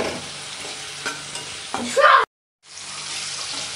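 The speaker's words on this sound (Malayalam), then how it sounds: "അപ്പോൾ കുറച്ച് സോയാ സോസും ഇങ്ങോട്ട് ഒഴിച്ചിട്ട് ഒരു രണ്ട് മിനിറ്റ് നന്നായിട്ട് ഇളക്കാം." Soy sauce and garlic sizzle in a frying pan as a utensil scrapes and stirs them close by, brief clatters over steady frying, then a sudden silence before the sizzle returns.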